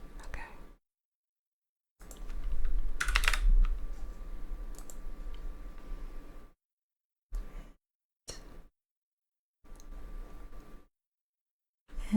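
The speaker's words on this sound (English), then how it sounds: "there's more I have to type" Keyboard typing at a receptionist's desk in a public defender's office, delivered as soft close-up ASMR clicking in short bursts separated by silences, with faint whispering underneath.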